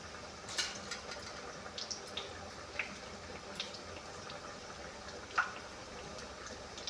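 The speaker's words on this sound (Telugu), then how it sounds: "బాగా నూనెలో వేగాలి, పచ్చిగా ఉండొద్దు" Black-eyed pea fritters, alasanda vadas, fry in hot oil with a faint, steady sizzle broken by soft pops and crackles, quiet and close.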